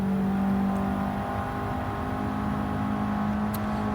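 Turbocharged car accelerating in Gran Turismo 7 on the Nürburgring, a steady loud engine drone holding one pitch throughout with a faint whir on top, no talking.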